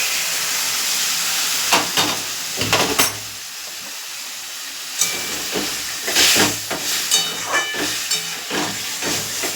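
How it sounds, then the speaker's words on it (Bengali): Hot water poured into a pan of sautéed katla fish curry sets off loud, rushing steam hiss and sizzle that surges in bursts, close and without talk. "এই দেখো কষানো হয়ে গেছে, গরম জলটা দিয়ে দিলাম।"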